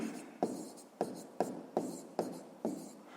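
A pen scratches on paper while solving a sixth-grade math exercise, making a series of about seven short, close, evenly spaced strokes, each a quick scrape that fades.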